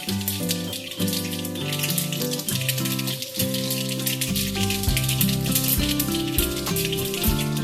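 A spoonful of mustard seeds crackles and pops in two large spoons of hot oil, tempering for Gujarati steamed patra. A steady, dense patter runs throughout beneath prominent background music.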